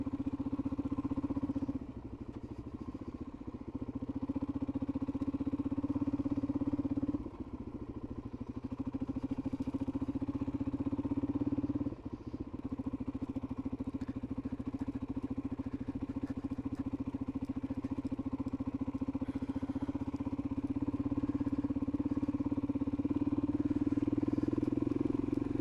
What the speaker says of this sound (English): Good reason to have a quiet exhaust.